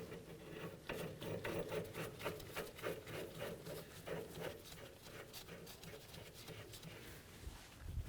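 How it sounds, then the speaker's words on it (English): Jam nut being threaded by hand onto the outer tie rod of a 2007-or-later Toyota Tundra, with copper anti-seize on the threads, a quiet rhythmic scraping and rasping repeated many times at close range. "Let's put the jam nut on there."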